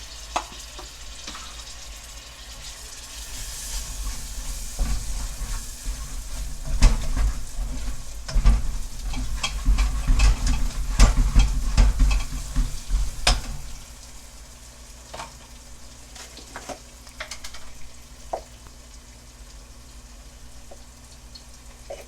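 Ginger, garlic and onion fry in a pan for a jollof rice dish. The crackling sizzle swells into a busier, louder patch of popping and stirring before settling back to a quieter fry.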